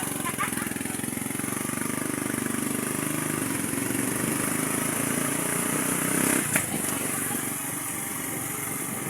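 A motorcycle with a sidecar drones steadily while being ridden, its engine loud and close throughout with rough wind-buffeted noise, and a voice comes through faintly at moments.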